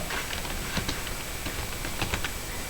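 Someone types on a computer keyboard in a steady patter of quick key clicks. The sound is close and moderately loud over a noisy background, with no talking.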